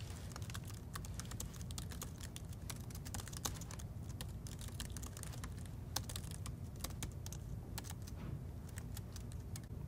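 Rapid typing on a computer keyboard, with a steady stream of close, crisp key clicks and occasional louder strokes over low background hum.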